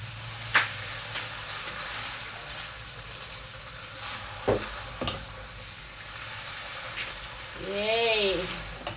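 Creamy pesto pasta stirred in a pan, a soft continuous sizzle with light scraping and occasional clinks, close and low, with a brief voice near the end.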